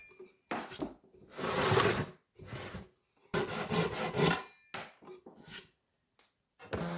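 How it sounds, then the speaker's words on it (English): A flush cut saw trims a wooden handle to size in uneven bursts of close, rasping strokes, separated by short pauses, with no talking. "I take my flush cut saw from Temple Tools and cut the handle to size."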